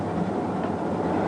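A train rolling along a railway line toward a station platform, a steady low rumble of wheels on track, close and continuous for a brief moment with no talk.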